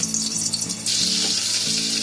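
Two spoons of oil with a spoonful of butter sizzle steadily in a kadai, a close, continuous frying crackle that swells partway through, with no one talking.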